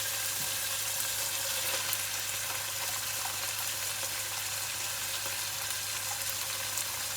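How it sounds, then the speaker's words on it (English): Washed, drained rice is stir fried with roasted chicken in a hot pan for an Anglo-Indian pish pash. A quiet, steady sizzle and crackle carries on throughout, with light scraping stirs now and then and no talk. "So now what I'm going to do is that I'm going to add in my rice."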